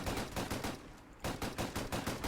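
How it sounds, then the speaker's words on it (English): Vulkan-M rifle fire in semi-automatic mode without a suppressor in Fallout 4: a rapid series of sharp, punchy game gunshots in an even rhythm, with a short pause partway through. "Definitely like the sound of the semi-auto unsuppressed more than the auto, because this is a lot less snare drummy."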